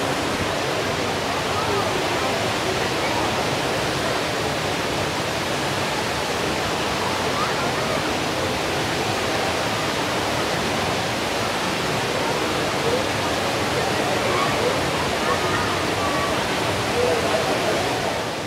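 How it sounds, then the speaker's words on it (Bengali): The Rain Vortex indoor waterfall at Jewel, Changi Airport, Singapore, pours with a loud, constant roar of cascading water that fills the space evenly without letting up. "এখন পানি পড়তে শুরু করেছে আবার।"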